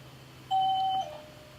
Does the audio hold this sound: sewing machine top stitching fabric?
no